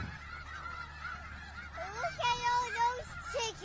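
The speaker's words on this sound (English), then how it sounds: "Just look at all those chickens." A goose honks repeatedly from the well-known chickens meme, several drawn-out, wavering nasal honks in the latter half over a murmur of background noise.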